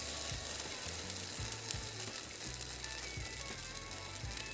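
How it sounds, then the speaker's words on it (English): French toast sizzles steadily in a frying pan, a continuous broadband crackle with low rhythmic clunks and scrapes of the pan or utensil beneath, close and fairly loud with no voices. "There's a slight sizzle"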